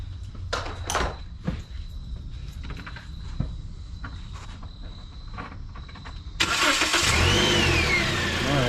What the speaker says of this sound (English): And you gonna start it again.